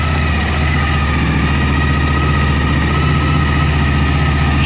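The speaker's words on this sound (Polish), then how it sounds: "Motorek się odezwał" A Suzuki DL 1000 V-Strom motorcycle with a V-twin engine and a charging problem idles close by, loud and steady with an even low throb that stays unbroken throughout.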